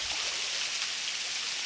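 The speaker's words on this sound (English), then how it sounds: "There you have it, folks. Dennery Waterfall." Dennery Waterfall in St Lucia pours in a steady, loud, broadband rush of falling water, close by and continuous, with no voices over it.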